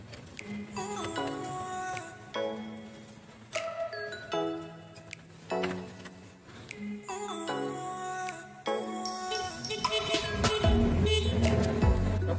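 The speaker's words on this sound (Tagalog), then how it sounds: "test muna natin yung bago natin busina kung gumagana" A newly installed horn on a Honda RS125 Fi motorcycle is tested, sounding in several separate tonal honks of varying length, close by, with some background noise between blasts.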